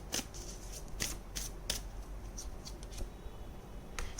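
Tarot cards are shuffled and drawn by hand in a series of crisp, close riffling bursts and soft slaps, spaced irregularly over a quiet background.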